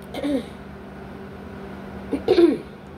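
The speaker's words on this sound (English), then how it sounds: "You're gonna hear me clearing my throat just a little bit." Someone clears their throat twice, a short rough burst followed a couple of seconds later by a louder one, close up.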